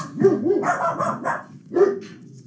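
A pet dog barks a few times up close in a home, with short, sharp, bright barks in two clusters and a brief pause between them.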